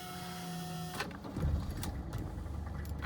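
A warm 1983 Mercedes turbodiesel cranks briefly and catches almost at once, a steady tonal hum before giving way to a rough, knocking diesel idle that runs on close and moderately loud.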